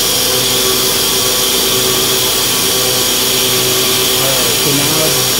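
A CNC mill cutting metal with a half-inch bit, coolant or air blasting chips out of the hole: a steady, loud, continuous machining roar with a faint wavering whine, running unbroken throughout.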